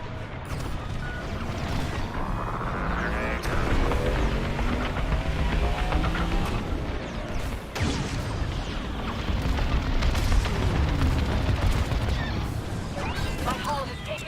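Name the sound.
evac ship exploding in Star Wars: Squadrons video game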